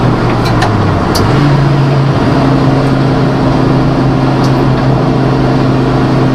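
An Audi S2 race car with an SMS Revo look drones steadily during a test drive, heard from inside as a loud, constant engine hum whose pitch drops and rises with gear changes.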